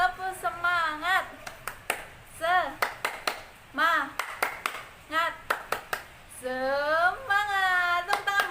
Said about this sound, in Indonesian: Sebelum itu tepuk semangat lagi dong. Tepuk semangat.